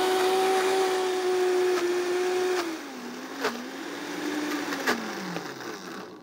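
A high-powered blender grinds cashews into butter with a loud, steady motor whine that drops and wavers in pitch partway through, while a few brief clicks cut through it.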